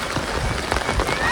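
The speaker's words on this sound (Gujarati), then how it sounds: "ત્યાં વરસાદ પડે છે જો કેટલો બધો પડે છે" A heavy downpour pours down outside a village home during flooding, heard as a loud, dense, continuous roar of rain close by.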